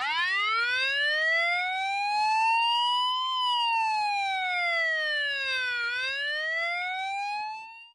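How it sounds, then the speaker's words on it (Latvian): A police BMW motorcycle's siren wails loud and clear, its pitch sweeping slowly up and down in long smooth rises and falls before cutting off abruptly at the end. "Te ir maguns, un tad te ir tie skaņas signāli."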